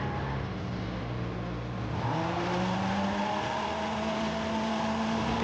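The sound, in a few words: car doing a burnout in second gear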